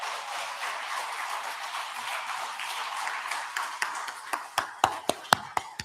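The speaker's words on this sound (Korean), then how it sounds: "모든 성도님들 이 가정을 격려하면서 한 번 더 박수하겠습니다." A congregation at a Korean church's Sunday morning worship service applauds, a dense wash of clapping that thins into a handful of sharp, separate claps near the end.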